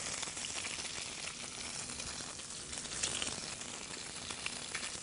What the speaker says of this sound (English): we'll get our fillets in there to sear the fillets